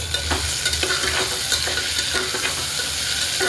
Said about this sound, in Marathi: आता बटाटा पण टाकून घेते काळ्या टोमॅटोमध्ये, धुतलेले छोटे.